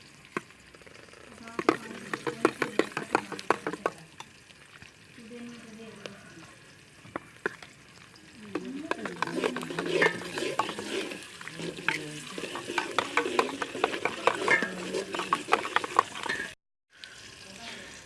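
Gram flour being stirred and whisked into a yogurt drink in a bowl, a steady run of close scraping and sloshing strokes with a pause in the middle, then continuing more busily before stopping abruptly.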